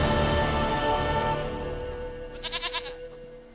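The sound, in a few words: goat bleating in The Witcher 3 video game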